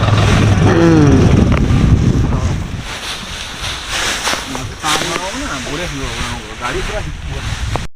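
A tractor engine runs during field work on a farm, a loud, rough rumble with heavy wind buffeting, strongest in the first couple of seconds and then continuing steadily under voices talking.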